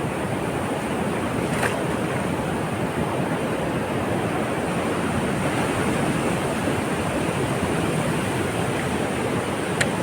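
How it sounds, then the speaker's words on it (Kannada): Heavy monsoon surf pounds Palolem Beach in Goa, a loud continuous roar of breaking ocean waves with wind buffeting the microphone and no voices. "ಅಲೆಗಳ ಸದ್ದನ್ನು ಕೇಳಿ ಮುಂದಕ್ಕೆ ಹೋಗೋಕ್ಕೆ ಭಯ ಆಗ್ತಿದೆ"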